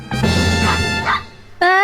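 A dog gives a couple of short, close yapping barks and whimpering yips, bright and fairly loud, with a brief pause between them.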